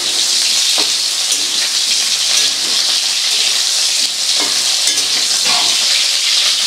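Sajne data (drumstick pods) lightly frying in a pan, a steady close sizzle with faint crackles and occasional stirring clinks throughout, no talking.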